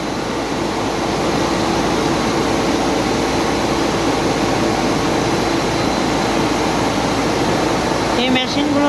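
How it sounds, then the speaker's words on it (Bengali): Two sugarcane cutting machines run at a sugar-making site, giving a loud, steady mechanical roar and hum that holds evenly throughout with no break. "এইগুলো কাটিং করার পর নিচে নিচে পড়ে যাচ্ছে এরকম দুইটা মেশিন আছে এখানে দেখুন"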